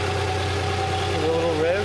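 A 2008 Hyundai Elantra engine idles steadily just after a timing belt service, a close, even low hum with a faint whine, under a person talking.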